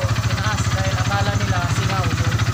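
A motorcycle engine idles steadily after a CDI pulser polarity fix cured its misfiring, putting out an even low throb with no stumbles while someone talks over it.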